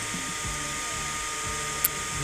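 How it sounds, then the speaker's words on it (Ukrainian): A small cooling fan on a Bi-LED headlight module, blocked by a hand, gives a steady whirring whine with a mechanical buzz, close and constant, while a voice talks over it. "от я рукою закрив повністю вентилятор"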